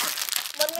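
A plastic sweets packet crinkles and crackles as it is opened, a short, close rustle mixed with a voice speaking.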